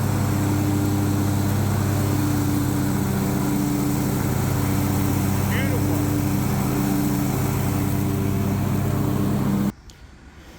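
A steady engine drone with constant low harmonic hum, like a push lawn mower running close by, continuous for about ten seconds before cutting off abruptly.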